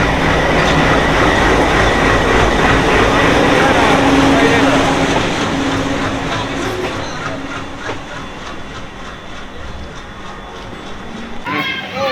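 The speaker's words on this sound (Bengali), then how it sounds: "হাওড়া আজিমগঞ্জ গণদেবতা এক্সপ্রেস এখন ঢুকছে। আর এই দেখো ইঞ্জিন," A diesel-hauled Howrah–Azimganj Ganadevta Express pulls into a station platform, a loud, continuous rumble of rolling railcars with clattering wheels that eases slightly as the train slows, with platform voices and chatter mixed in.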